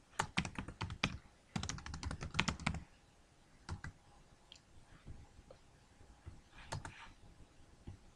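Keystrokes on a computer keyboard while typing a web address, a quick burst of close, crisp clicks followed by sparser, scattered taps and pauses.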